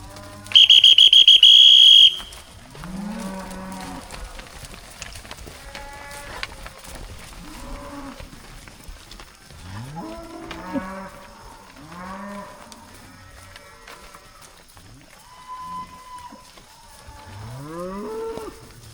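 Mashona cattle, including a young heifer, moo repeatedly at close range, with several drawn-out calls spread across the scene, preceded by a loud, sharp whistle blast and set against quiet farmyard background.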